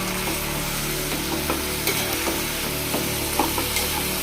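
Tomato pieces sizzle and fry in a pan as a spoon stirs them, giving a steady crackle broken by soft scraping and clacking strokes. No one speaks.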